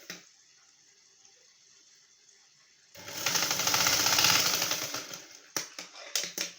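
A sewing machine stitches a prince-cut blouse in a steady, loud mechanical whir after a quiet start, then breaks into short stop-start bursts near the end.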